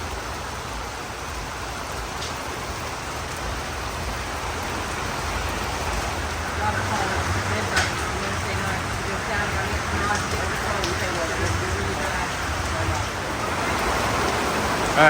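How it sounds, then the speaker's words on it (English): Steady rain pours down outdoors at a motorcycle rally on opening day of Myrtle Beach Bike Week 2024, a dense continuous hiss of drops on surfaces that stays even and fills the whole scene. "round 2 of the rain coming now"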